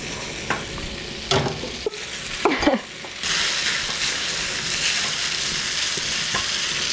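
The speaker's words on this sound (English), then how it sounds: "I'm just putting the bacon back on." Bacon sizzles steadily in a pan cooked with Creme Eggs for a carbonara, a loud continuous frying hiss after a few stirring clatters and scrapes at the start.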